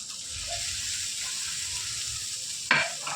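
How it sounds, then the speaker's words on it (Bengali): Food being mixed by hand or spoon with salt, soy sauce and green chili, a continuous soft wet churning at close range, ending with one sharper knock or clatter. "গ্রিন চিলি দিয়ে এখন এটাকে আমি ভালো করে মাখিয়ে নিচ্ছি"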